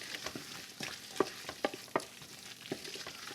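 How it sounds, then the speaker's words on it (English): Vegetables being stirred with tomato paste in a pot for turkey noodle soup, heard as a run of close scraping and clacking spoon strokes over a soft sizzle, with no talking. "Stir to coat your veg with the tomato paste."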